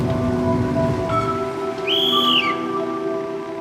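Rain falls steadily and fairly close, a constant hiss throughout, with a thin whistling tone rising briefly in the middle and no one talking.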